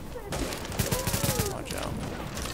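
Sniper and automatic gunfire in the video game The Division, a dense burst of loud overlapping shots and bangs over steady background noise, with a voice briefly mixed in.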